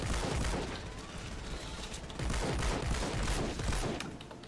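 A Hydra assault rifle in Fortnite Save the World fires continuously at a Smasher enemy, producing a steady, fairly quiet stream of rapid shots mixed with impacts and game noise, and no talking over it.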